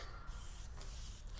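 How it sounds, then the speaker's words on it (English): Liquid misted from a spray bottle onto a dog on a hot day along the Mason-Dixon Trail, a steady close hiss with brief pauses between squirts. "you want to spray it everywhere."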